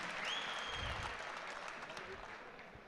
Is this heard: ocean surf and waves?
no